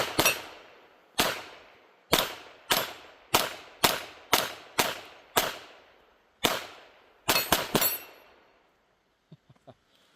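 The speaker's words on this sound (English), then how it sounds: "Let's just do some quick shooting." About a dozen sharp, loud gunshots from a Taurus TX22 .22 pistol ring out one after another in an uneven rhythm, each with a short decaying echo, followed by a few faint clicks and handling noises at the end.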